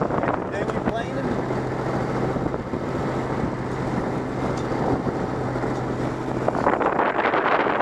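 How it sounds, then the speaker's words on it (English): A dinghy planes across choppy water off Southern LBI with a steady, loud rush of hull slap, spray and engine drone, buffeted by wind on the microphone throughout. "Dinghy planing."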